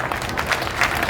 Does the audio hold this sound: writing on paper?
no